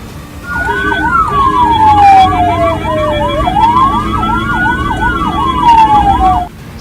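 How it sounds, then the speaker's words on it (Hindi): A loud ambulance siren wails close by, rising and falling with fast yelping tones and horn blasts layered over it, above the rumble of road traffic. "एम्बुलेंस ने सायरन और हॉर्न लगातार बजाकर रास्ता मांगा"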